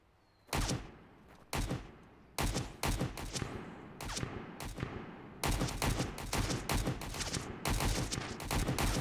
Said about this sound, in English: This guy is sending all kinds of rounds downrange.